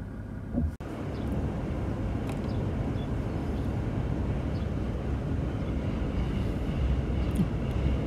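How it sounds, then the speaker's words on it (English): A low, continuous rumble of a train rolling past, steady and sustained throughout, heard from nearby with no voices. "it looks like we're going to get held up by a train"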